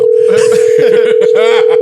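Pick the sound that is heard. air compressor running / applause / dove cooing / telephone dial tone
telephone dial tone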